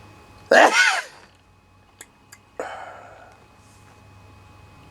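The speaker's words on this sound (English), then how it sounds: "And now I'm going to sneeze." A single loud sneeze bursts out close up, followed by a softer exhale or second sound a couple of seconds later.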